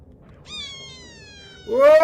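A cat gives a faint, drawn-out meow that trails downward, followed by a louder, sharper meow close by.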